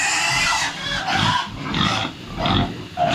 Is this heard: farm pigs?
yes